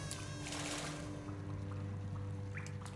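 Water splashes briefly in the Hollow Knight video game, a quiet wet gush near the start over a steady low game hum, followed by faint chiming tones.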